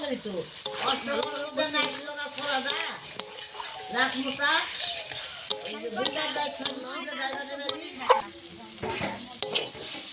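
Spice paste with potatoes being stirred and fried in a pan for an egg and potato curry, with ground coriander, chilli and cumin added; steady sizzling and scraping strokes continue throughout, with a voice speaking over parts of it.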